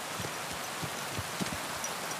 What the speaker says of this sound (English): Oh my goodness, this rain. It's so loud!